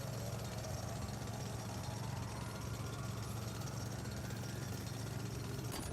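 Steady mechanical drilling through rock in the video game The Alters, a continuous droning, jackhammer-like rumble with a strong low hum holding evenly throughout at moderate loudness, with no speech.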